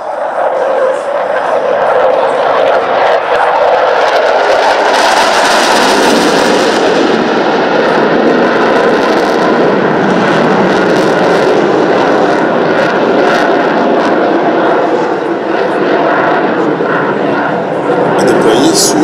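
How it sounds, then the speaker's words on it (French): Dassault Rafale Marine jets, carrier-based aircraft, make a fast fly-past at the Le Touquet airshow, a loud sustained roar that rises and sweeps through for the whole stretch, with a commentator talking over it. "passage rapide de nos rafales"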